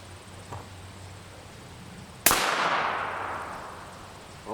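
A single sharp rifle shot from a TC Compass rifle with a 22-inch 1-in-9 twist barrel in an OR-YX chassis cracks loudly at close range, then a long bright decay trails off with no talk.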